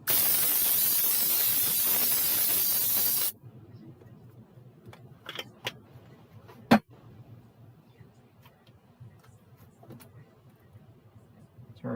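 Cooking spray blasting into a pan as French toast and omelettes are prepared, a loud steady hiss lasting about three seconds, followed by quiet kitchen clatter and small knocks.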